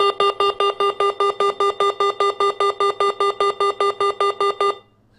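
An Arduino laser trip wire alarm sounds off in a rapid, regular train of loud electronic beeps, about four per second for nearly five seconds, then cuts out abruptly.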